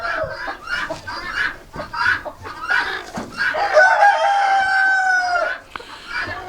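Chickens in a winter coop beside the nesting boxes, clucking and calling close by in a busy flock chorus, with a drawn-out rooster-like crow rising over the middle.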